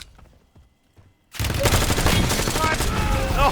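Rapid bursts of gunfire in the Call of Duty Black Ops battle royale mode, erupting suddenly after a quiet moment and continuing as loud, dense volleys to the end.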